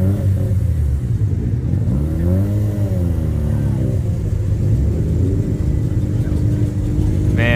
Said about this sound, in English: Oh, when he revs, it sounds like Fast and Furious.